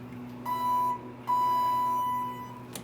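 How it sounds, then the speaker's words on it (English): ThyssenKrupp hydraulic elevator chime sounds inside a stainless steel cab, two clear electronic tones, the first short and the second held longer, fairly loud and close with no talking. "It's a very loud chime."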